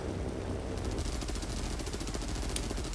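Aircraft machine gun fire in War Thunder, a continuous rapid rattle of guns over a steady engine drone, fairly faint and unbroken for the whole stretch.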